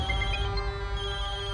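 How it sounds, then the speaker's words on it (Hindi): A mobile phone rings with a steady electronic ringtone, loud and close, sounding continuously on its own without any talking. "जब मैं किसी को फोन करूं तो वो उठाता नहीं है, और अभी टे टे टे टे टे टे करके बज रहा है।"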